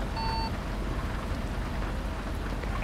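Steady rain patters through a Euro Truck Simulator convoy drive, a dense even hiss with a low rumble underneath and a brief tonal chime at the start; no voices.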